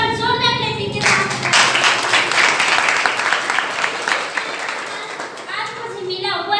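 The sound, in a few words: audience applause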